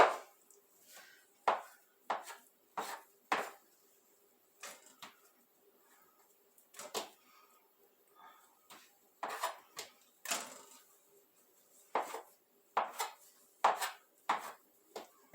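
A knife cutting cinnamon pull-apart bread dough on a board, a series of crisp irregular chopping knocks, close and distinct, with quiet pauses between strokes and no talking.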